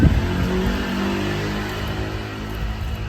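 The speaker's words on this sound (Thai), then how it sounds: "เสียงรบกวนค่อนข้างที่จะเยอะ เสียงรถเสียงเรือนะครับปกติ" Continuous car and boat traffic noise in front of a house, with a low engine rumble, a car passing nearby against a steady background hum.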